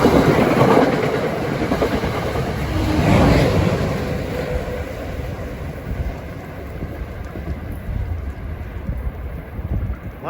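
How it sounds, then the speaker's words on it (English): An NJ Transit train approaches Ridgewood station, a rumbling clatter of wheels on rails with clickety-clack rhythm, loudest early on then easing slightly, mixed with wind buffeting the microphone. "approaching Ridgewood at 4:55 is train 1117, bound for Suffolk"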